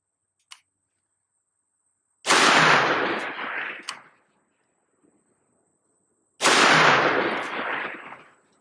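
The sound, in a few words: Smith & Wesson 500 Magnum revolver gunshots, 325 grain bullets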